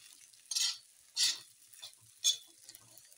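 A food mixture stirred in a pan, heard as a few brief, sharp scraping strokes spaced about a second apart, quiet between them, with no voices.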